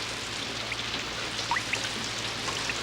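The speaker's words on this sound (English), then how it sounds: "It's raining in my bedroom." Rain falls indoors in a cartoon Moomin bedroom: a soft, steady patter of drops with a few brighter individual drips popping out, continuous and close, with no talking.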